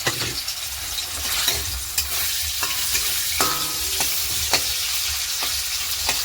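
Chopped onion and small pieces of boneless chicken fry in hot oil with a steady, close sizzle, punctuated by regular scraping and tapping of a spatula as they are stirred; no voices.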